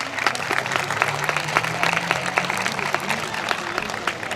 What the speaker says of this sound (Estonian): Teeme talle aplausi.